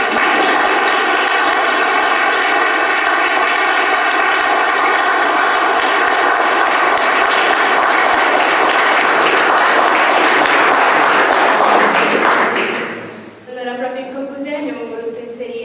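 Loud, sustained applause from an audience at a talk on black holes, filling most of the clip as a thick roar of clapping before it fades and a voice begins speaking near the end.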